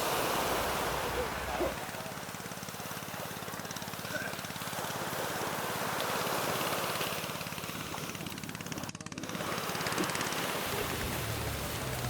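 Surf rolling ashore at Sumur Tiga beach in Sabang, a steady broadband wash of waves with light wind buffeting the microphone, continuous and fairly soft throughout.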